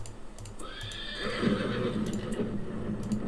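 A horse neighs in a Lord of the Rings strategy game as the stables become ready: a clear drawn-out whinny over soft clip-clopping hooves and light ticking, close and alone without talk.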